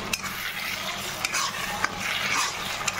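Katla fish kalia being sautéed with tomato sauce in a pan: a continuous bubbling sizzle broken by several sharp scrapes and knocks of a spatula stirring against the metal, close and fairly loud.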